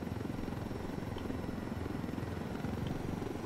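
Helicopter in the Ghost Recon Wildlands video game, a steady, loud rotor thrum with continuous low beating that holds without a break throughout, with no voices over it.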